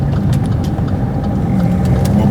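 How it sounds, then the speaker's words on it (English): Steady car engine and road rumble from inside a vehicle driving to the gym, a continuous loud low drone with no voices. "We are currently driving to the gym."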